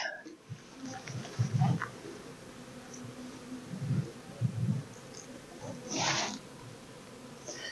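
Honeybees at a backyard hive in Colorado crowd a pollen patty, producing a low buzzing hum with brief louder swells as bees pass close, along with faint handling noises and a short rustle.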